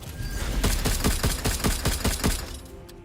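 A rapid burst of gunfire rattles through a barrage in the video game Necromunda, about ten sharp cracking shots in quick rhythm over a rumbling background, then trailing off.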